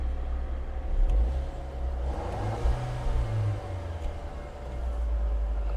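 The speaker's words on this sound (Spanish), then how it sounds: "Ahora sí, el sonido del motor." A 2021 Renault Duster Turbo engine idling steadily outdoors, a low continuous rumble with a slight swell midway, no talking.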